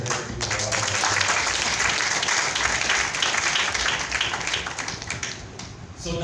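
A crowd gives a round of applause for party executives at a musicians' talent programme event: loud, dense clapping holds steady for about six seconds, then thins slightly at the end, with no talk over it.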